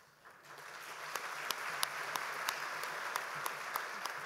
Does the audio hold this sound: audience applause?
yes